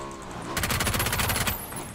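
Heavy automatic gunfire in a battle-royale shooter game: a rapid, rhythmic burst of closely spaced shots lasting about a second, loud against a quieter game background.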